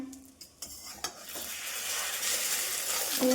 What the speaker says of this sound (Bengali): আরেকটা ভাজা হবে দুজনের দুটো ডিম ভাজা